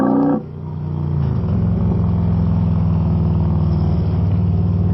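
A Harley-Davidson motorcycle engine cranks briefly, then catches and settles into a loud, steady, low rumbling idle close by, with no talk over it.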